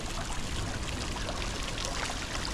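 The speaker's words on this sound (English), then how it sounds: "Wow, what a nice water fountain." Water fountain in a Boston South End park, a dense continuous splash and rush of falling water, close and steady.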